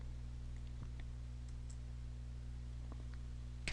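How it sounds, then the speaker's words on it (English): A few faint, sparse mouse clicks, as when pressing the OK button in an Outlook 2010 archive settings dialog, sit over a steady low electrical hum with no voices. "click the OK button."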